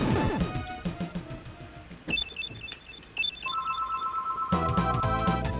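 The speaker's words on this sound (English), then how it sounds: "Sorry about the phone call" A telephone ringtone rings loudly and close, in repeated electronic tones, layered over chiptune music and sound effects from the Super Famicom game Ghost Sweeper Mikami.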